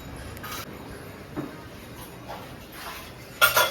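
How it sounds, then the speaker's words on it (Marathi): Dishes being scrubbed and washed in a home kitchen, with a few soft clinks and scrapes of utensils under steady background noise and a louder clatter of pots near the end. "सध्या तरी माझी आई भांडी घासते"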